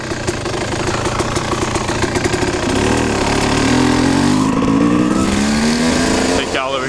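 A Kawasaki KX 250 dirt bike engine runs close by, a loud steady throbbing idle with a rough knocking pulse that shifts pitch slightly midway, while someone talks over it.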